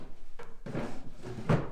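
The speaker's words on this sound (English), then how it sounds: "The drawers are running smoothly" Pine drawers of a triple wardrobe slide open and shut, giving a soft wooden rumble followed by a brief knock as a drawer closes, heard close up with no voices.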